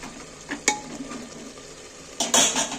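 Chicken and onion frying in a pan over a medium flame, stirred with a utensil: a low steady sizzle broken by a few sharp scrapes and clinks, then a louder burst of stirring and spatter near the end.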